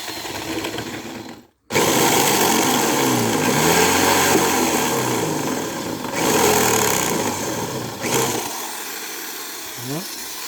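An electric drill runs while a washing machine motor is being dismantled, a whining, rising and falling motor buzz near at hand with a brief silent gap early on, winding down at the end.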